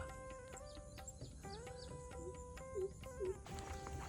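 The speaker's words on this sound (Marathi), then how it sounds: "तुम्हाला बरीचशी पक्ष्यांची आवाज ऐकायला येत असते" Several birds chirp and call intermittently over a steady low rural hum in the Konkan countryside, with a few louder tweets standing out toward the end.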